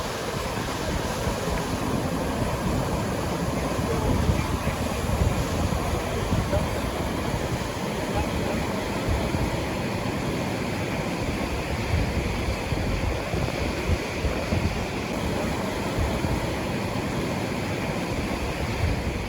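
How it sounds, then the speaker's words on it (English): Big Beaver Rapids on the Missinaibi River roar steadily as broadband rushing whitewater, constant and fairly loud throughout with no voices, under a faint wind rumble. "We made it to Big Beaver Rapids today, and what a beautiful set of rapids"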